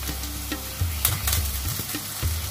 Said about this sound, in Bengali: পেঁয়াজের মধ্যে টমেটোটা যে কুচি করে রেখেছি টমেটোটাকে দিয়ে দিলাম